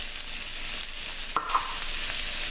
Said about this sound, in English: we're going to let these saute until it starts getting soft